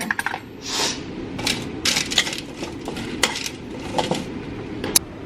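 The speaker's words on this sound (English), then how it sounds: "you wanna toss it all together" Vegetables tossed together on a metal baking pan, a close run of scraping, rattling clatters and light metallic clinks, uneven in rhythm and moderately loud, with no talk.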